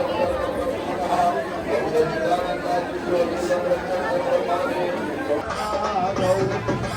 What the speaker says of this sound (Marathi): आतमध्ये गर्दी खूप आहे. बघू शकता गर्दी किती आहे आतमध्ये.